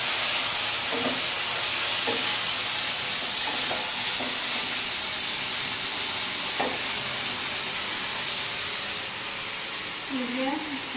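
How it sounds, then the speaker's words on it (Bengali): Meat braising for kosha in a pan gives a steady, loud, close hiss of sizzling that runs without a break, with a voice speaking briefly at intervals over it. "মাংসটা কষাচ্ছে এখন"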